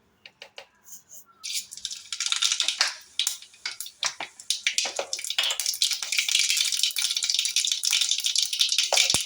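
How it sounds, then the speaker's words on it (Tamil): Mustard seeds spluttering and popping in hot oil in a home kitchen pan for a potato fry, a dense run of sharp crackles that builds into continuous sizzling, close and fairly loud with no talk. "அது காஞ்சோடனே எண்ணெய் காஞ்சோடனே கடுகு போட்டுக்கோங்க."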